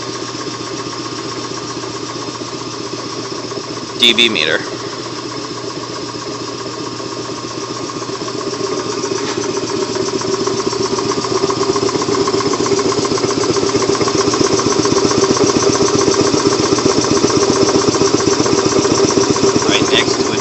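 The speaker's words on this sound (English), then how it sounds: "This is my Kellogg compressor." A 1940s Kellogg American air compressor runs with a steady, loud mechanical drone that swells slightly and holds, while someone talks briefly over it and an air dryer hums in the background.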